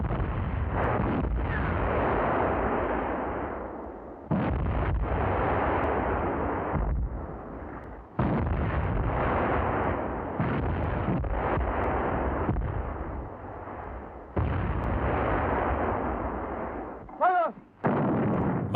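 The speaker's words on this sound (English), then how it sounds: "The fire for effect against Garavense has begun." Mountain artillery fires for effect in a series of heavy booming blasts, one every few seconds, each followed by a long rolling rumble, loud and close, with no talking.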